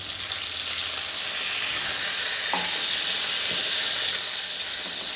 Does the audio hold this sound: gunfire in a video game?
no